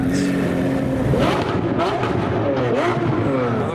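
A modified car with a loud aftermarket exhaust rumbles past at a street car meet, its roar swelling and fading over a busy background of idling engines and crowd noise.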